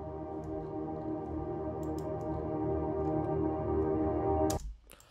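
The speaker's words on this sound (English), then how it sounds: "and here you have your reverse piano sample." A reversed piano sample swells steadily with smeared, sustained tones, building softly before cutting off sharply near the end, followed by a few faint clicks.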